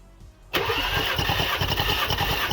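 A 2.0 TSI EA888 engine in an Audi S3 cranks and catches during a compression test, a sudden loud rough roar after half a second of quiet that holds steady and close to the end.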